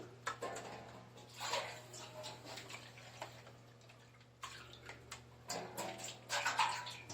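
Leftover material from a sluice, including bits caught behind the mats, is rinsed into a pan with water: irregular close splashes and trickling pours in bursts, with quieter gaps and small taps between.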